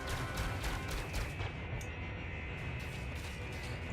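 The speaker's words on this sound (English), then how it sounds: "Oh, he's shooting at us, I think." Spaceship weapons fire in the space combat game Elite: Dangerous, a quick volley of sharp blasts in the first seconds that settles into a continuous engine roar and hum.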